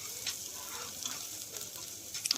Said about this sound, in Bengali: সমগ্র পেঁয়াজ কুচিটা এর মধ্যে দিয়ে ভালো করে এটাকে নাড়াচাড়া করে নিতে হবে যতক্ষণ না পেঁয়াজটা নরম হচ্ছে